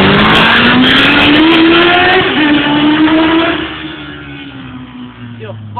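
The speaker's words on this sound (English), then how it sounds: "You know how fucking loud your bike is?" A motorcycle fitted with a loud full Arata exhaust roars close by with a rising, steady engine note that eases off midway. Voices can be heard over the engine.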